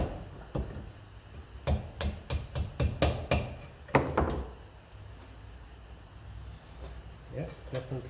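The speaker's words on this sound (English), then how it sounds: "I'll get a plastic hammer, tap that through." A plastic hammer taps a part through on a 1957 Ferguson 35 TVO tractor, a rapid series of sharp taps, about a dozen quick blows in a burst, then a pause and a few lighter taps toward the end.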